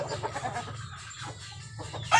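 Chickens in a cockfighting setting, with soft clucking from a rooster against a steady low hum and a louder burst of sound at the very end.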